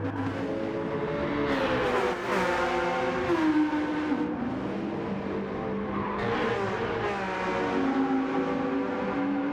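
Porsche race cars in a video game racing league event, their engines droning and revving steadily and loud throughout, with shifting pitch as the cars jostle for position.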